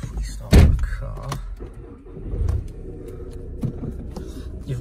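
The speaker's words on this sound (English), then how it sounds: "If we start the car," A 2010 Audi TT 2.0 TDI S line quattro diesel: a sharp close thunk, then the engine cranks and catches, settling into a low, steady idle.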